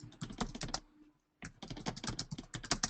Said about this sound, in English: I hear you typing, but I can't hear you speaking.